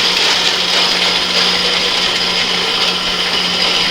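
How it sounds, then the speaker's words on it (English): Power saw cutting steadily through thin metal tubing for a street rail build, a loud continuous whining grind close to the microphone. "So we're going to let this saw cut this off"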